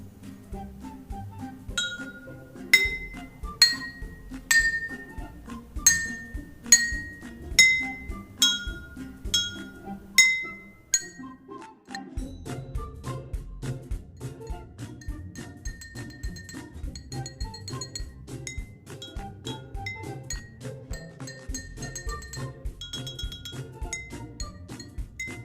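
Drinking glasses are struck with a bamboo mallet in a classroom sound-wave experiment. A dozen or so separate bright, ringing clinks at differing pitches come first, followed by a quicker, softer run of tinkling taps.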